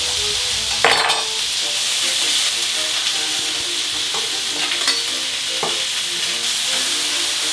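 Potatoes and carrots frying in a pan over high heat: a steady loud sizzle and hiss, with scraping and clinking from stirring and turning the vegetables, sharpest near the start.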